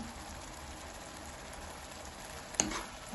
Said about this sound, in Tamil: இப்படியே கொஞ்சம் இதில் வதக்க விட்டு வதங்க விட்டோம்னா அந்த பச்சை வாசனை போடும்